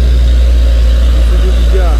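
An Isuzu box truck's engine rumbles heavily close by, a loud, steady low drone with a faint rising whine near the end as it moves past.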